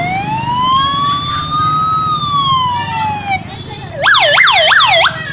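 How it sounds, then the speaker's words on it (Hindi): A 108 ambulance siren first holds a long, slow rising and falling wail, then switches to a rapid, loud yelp of quick repeated sweeps, close and unaccompanied by talk. "108 की आवाज"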